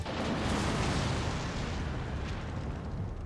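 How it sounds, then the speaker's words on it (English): Explosions in the Tokyo Necro visual novel game keep roaring without a break, a dense, loud rumble filling the whole stretch with no voices over it. "A succession of roaring explosions rock the detention house to its very foundations."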